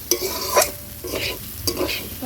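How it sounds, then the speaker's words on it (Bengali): Polao rice fried with bay leaves and cardamom is stirred in a pan: a soft sizzle under three distinct scraping bursts of the spatula. "পোলাও চালটা ভালোভাবে ভাজা হয়ে গেছে"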